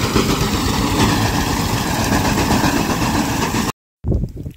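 An Eicher 241 tractor running a reaper machine harvests wheat, giving a loud, steady mechanical drone and rattle close by, then a cut to a quieter, rougher stretch.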